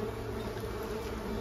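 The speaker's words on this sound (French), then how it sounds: "Donc là beaucoup de guêpes." A dense swarm of wasps drones continuously inside a compost bin, a close, even buzz that holds steady throughout.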